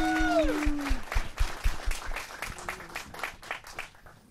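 Audience applause for a band at a Universalist revival service, with dense, uneven clapping from a crowd that follows a brief tonal sound at the start and fades a little toward the end.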